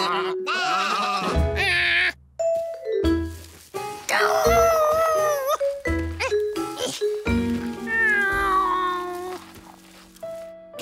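Cartoon sheep bleat in a lively run of wavering, high cries, several overlapping calls bursting out in quick succession over a light musical backing.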